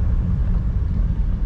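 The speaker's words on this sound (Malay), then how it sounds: "Tekan minyak kuat sikit." A car engine revs steadily as the accelerator is pressed harder during a light check on the road, a low continuous rumble heard up close without talk.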